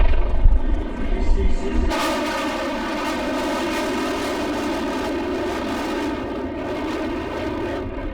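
Aircraft flying during the Paris Air Show, where civilian jets, helicopters and fighter planes perform test flights; a loud, sustained jet roar rises and then holds steady, with a narrator's voice over it.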